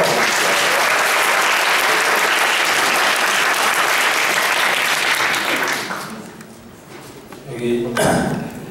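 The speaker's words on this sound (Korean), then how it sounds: "여러분 큰 박수로 부탁드립니다" An audience at a baseball commentary event applauds loudly and steadily for several seconds, then the clapping dies away and a voice is briefly heard.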